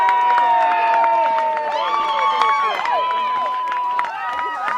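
Spectators at a high school boys' varsity soccer homecoming game cheer their team, with shouting and whistling over a busy crowd. Voices and calls overlap throughout at an even level.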